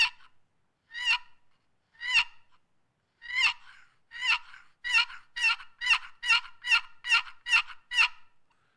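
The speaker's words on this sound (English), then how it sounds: "And that's how you yelp on a box call." A wooden box call sounds a series of turkey yelps: sparse single notes at first, then a quickening run of about a dozen raspy yelps, close and clear against silence.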